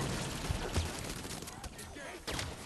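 Gunfire from a weapon in Halo 5: Guardians crackles in quick bursts over a dense, noisy battle backdrop, several sharp shots standing out.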